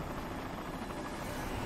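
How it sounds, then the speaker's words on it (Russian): A helicopter in the video game Serious Sam 2 gives off a steady, broadband rotor drone that holds an even loudness throughout, fairly faint in the mix. "Я слышу вертолет."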